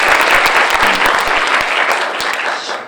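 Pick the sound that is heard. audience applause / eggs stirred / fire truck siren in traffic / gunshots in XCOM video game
audience applause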